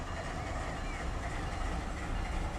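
A train backs up in the Run 8 train simulator, giving a steady rumbling roll with faint clatter from the cars, continuous and fairly loud throughout.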